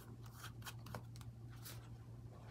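Scissors snipping through a paper picture being trimmed for a journal cover, a few soft crisp cuts close by over a low steady hum, with no talking.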